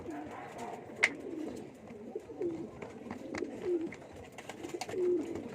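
Pigeons coo softly while eating feed, low repeated cooing phrases at close range with a sharp brief sound near the start and faint background noise.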